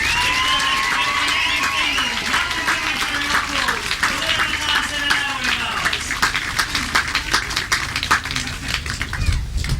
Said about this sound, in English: Let's give one more round of applause to the three winners